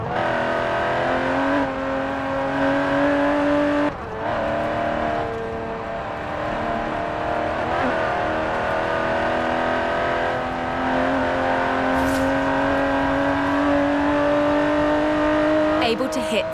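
Aston Martin DB11 with its 5.2-litre twin-turbo V12 in Forza Horizon 4, a steady loud engine drone with rising revs and brief dips between gear changes, heard alone without talk.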